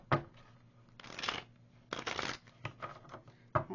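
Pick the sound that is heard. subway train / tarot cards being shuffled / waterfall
tarot cards being shuffled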